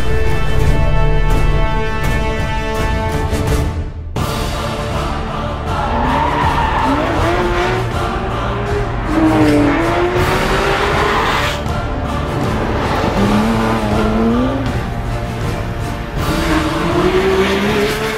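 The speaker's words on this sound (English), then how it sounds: "The car you can see behind me is the new GT3 RS 4-liter version" A Porsche 911 GT3 RS 4.0 on the Weissach test track roars continuously, loud and close, its engine note rising and falling through gear changes for about eighteen seconds.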